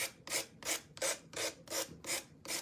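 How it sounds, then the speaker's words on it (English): Steady back-and-forth rasping strokes of sandpaper on wood, about eight even passes in quick rhythm, close and moderately loud. "when sanding, because you really want a nice finish"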